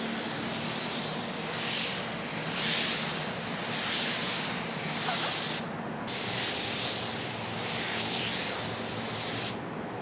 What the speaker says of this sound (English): let's knock down that third coat